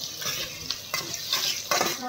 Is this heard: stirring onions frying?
yes